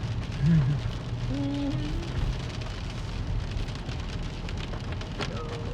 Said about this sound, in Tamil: மழை வந்த மாதிரி அடிக்குது